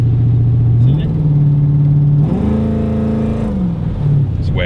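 A Lexus LX450 truck engine runs close and steady, its drone stepping up in pitch as it revs, then settling back, heard alone and loud throughout.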